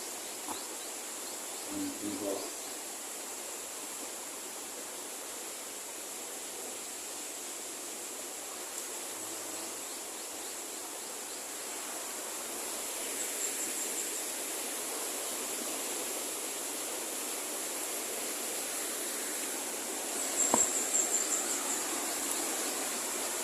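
Strong waves of water make a steady, faint rushing wash that fills the whole stretch, swelling slightly in places, heard from a distance with no other clear sounds.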